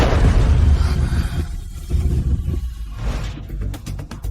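A loud explosion from a dragon-themed fantasy animation, a deep rumbling roar that swells, dips and rolls on before breaking into a fluttering crackle at the end, with no speech.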